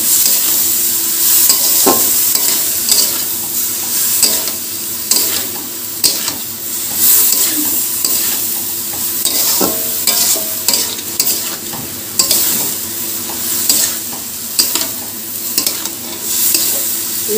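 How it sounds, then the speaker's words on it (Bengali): Chopped ash gourd sizzles in a hot pan while a spoon stirs it, with a steady loud frying hiss and repeated scraping and knocking of the utensil against the pan throughout. "ভালো করে একটু নাড়াচাড়া করে ঢাকা দিয়ে দেবো।"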